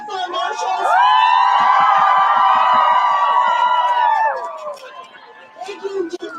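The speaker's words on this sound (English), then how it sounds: "Can we clap up for our marshals?" Crowd of students at a protest walkout cheering and whooping loudly for the marshals, a sustained burst of shouting voices with some rhythmic clapping underneath, fading into scattered calls.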